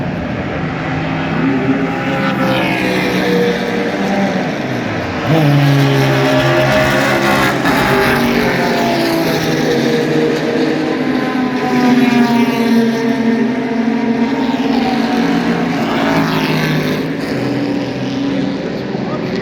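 Vintage SVRA race cars, a Ford Mustang among them, roar past in a continuous loud pack, engine notes rising and falling with Doppler sweeps as they pass, while a commentator talks over the noise.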